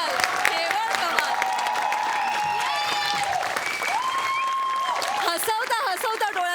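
A studio audience at a Marathi comedy show, Hasya Jatra, breaks into loud, sustained applause that runs throughout, with voices and tonal sounds layered over the clapping.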